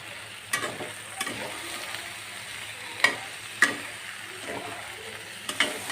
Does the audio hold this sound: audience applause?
no